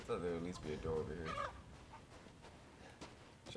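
Chickens clucking in Resident Evil Village, a close burst of squawking clucks in the opening second and a half, then fading to faint scattered clucks over low ambience.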